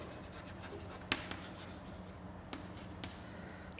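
Chalk or marker strokes on a board during a mathematics lecture on wavelets, a few short scratchy taps and scrapes against a steady room hum, with no talk.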